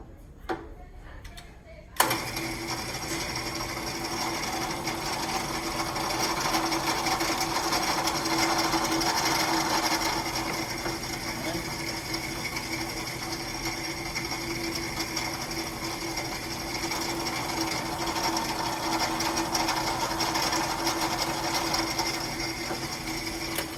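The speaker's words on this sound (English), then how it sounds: "So we have our 2 holes drilled." Drill running steadily through a wooden mug in a school wood shop, a continuous loud whine with a sharp start after a brief quiet moment, holding level for the rest of the stretch.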